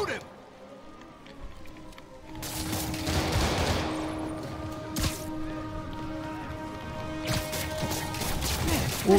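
Rapid bursts of gunfire in the Spider-Man Remastered video game, dense crackling volleys with crashes and impacts over several seconds, heard under game voices and a player talking.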